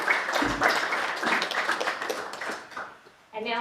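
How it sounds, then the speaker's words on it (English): An audience at a City of Mandurah council meeting applauds for an award recipient, a dense round of clapping that fades out before a voice speaks at the end. "giving Cheryl a massive round of applause again"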